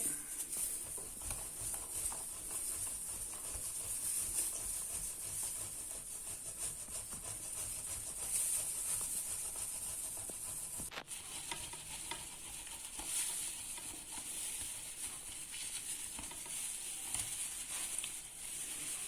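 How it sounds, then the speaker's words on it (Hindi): Potatoes rubbed against a hand grater for chicken resha kabab, a steady, dense rasping with fine repeated strokes that runs close and unbroken throughout, with no talk. "सबसे पहले हम आलू को कद्दूकस कर लेंगे"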